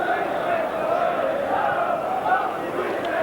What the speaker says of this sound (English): Certainly a game that the crowd are greatly enjoying at the moment.